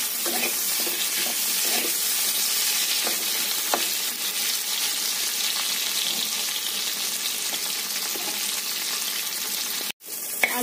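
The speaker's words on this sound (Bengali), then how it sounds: "এইটা আগে একটুখানি ভালো করে ভেজে দেবো" Potato and pointed gourd fry in a pan with an unbroken loud sizzle, broken by occasional soft clicks and scrapes of stirring, with no talking.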